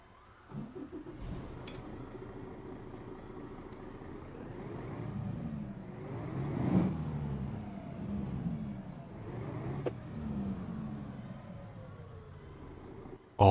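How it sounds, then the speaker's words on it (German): In the OMSI 2 bus simulator game, a bus diesel engine starts with a starter whir and catches, then idles with a low rumble that swells and dips across the clip, no talking. "die Chipkarte nehmen wir erstmal runter und starten den Bus"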